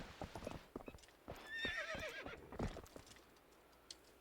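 Horse hooves clip-clop rhythmically in the Zelda: Twilight Princess video game, broken by a loud, wavering neigh partway through; the hoofbeats are close and steady, and no one talks.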